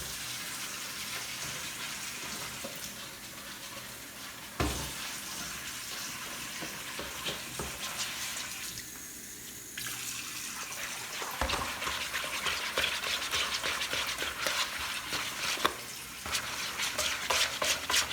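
Water is poured into a bowl of batter mix for fried whiting, a steady splashing stream that runs for long stretches with a couple of brief pauses and soft clinks.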